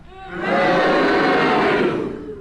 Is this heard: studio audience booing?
yes